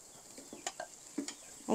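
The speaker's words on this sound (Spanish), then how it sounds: "Ahora sí le voy a regresar todos los demás ingredientes, que es el bistec y las verduras" Steak and vegetables are stirred into rice frying in a pan, with a few soft scrapes and spoon taps over a faint sizzle.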